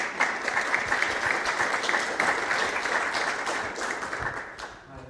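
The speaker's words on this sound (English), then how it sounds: "Round of applause for Ranjit." A crowd applauds steadily for several seconds, dense clapping that fades slightly at the end.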